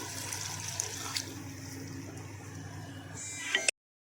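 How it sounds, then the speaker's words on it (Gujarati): Water pours in a steady splashing stream into a pan of Manchurian gravy for a few seconds, with a couple of light clinks, then cuts off abruptly into silence. "તો હવે તેમાં આ રીતે રેડ દઈશું પાણી"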